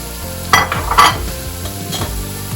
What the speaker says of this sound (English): Okay, my pan is heated up. Okay, throw in some chopped onions.